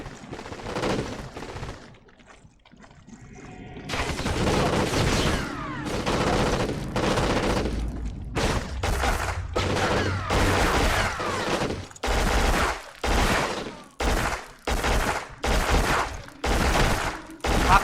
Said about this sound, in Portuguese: We got a machine gun! Take it out!